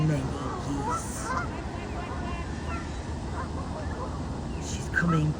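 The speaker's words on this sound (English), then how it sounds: "There's many geese over there." A large flock of about 400 geese at feeding time by a pond island, honking and calling in scattered bursts over a dense, constant background of chatter and ambient noise, some calls nearer and louder than others.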